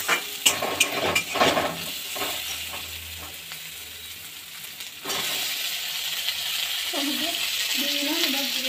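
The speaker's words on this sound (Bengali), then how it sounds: "তারপর দিয়ে দেবো টমেটো, আর এগুলো লাল লাল করে ভাজা হবে" Tomatoes hit a hot pan and break into a loud, even sizzle that holds steady, after a stretch of clattering utensil handling, with a brief faint voice near the end.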